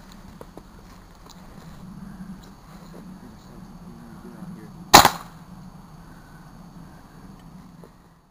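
An improvised air cannon charged to 200 PSI fires once at a coffee machine, giving a single sharp, loud bang with a short ringing tail. Before it comes a quiet stretch of low background hum.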